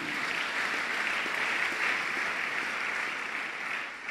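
A church congregation at a French-language service applauds in a steady, full wash of clapping that holds evenly throughout and fades slightly at the end.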